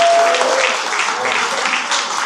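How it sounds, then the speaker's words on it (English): An audience claps at an anniversary celebration for the Chicago Torture Justice Center, producing a loud, dense wash of applause that stays fairly even and close throughout with no clear speech. "We got some more clapping to do."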